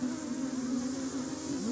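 Thousands of honey bees buzz close by in a dense, continuous, steady drone with a slightly wavering pitch and no speech over it.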